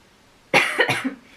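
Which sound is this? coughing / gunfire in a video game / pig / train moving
coughing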